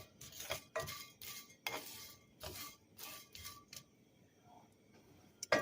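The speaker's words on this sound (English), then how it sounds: "Make sure when you're roasting the almonds that you constantly stir, because otherwise they burn very easily." Sliced almonds roast in a pan while being stirred constantly, giving repeated close scraping and clinking strokes of a utensil against the pan in irregular bursts with short pauses.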